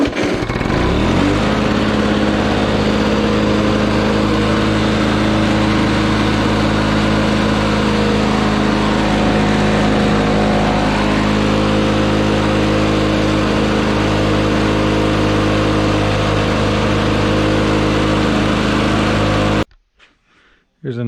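An older LawnBoy lawn mower engine runs steadily at a constant, loud drone close by, with no talk over it, before cutting off abruptly near the end.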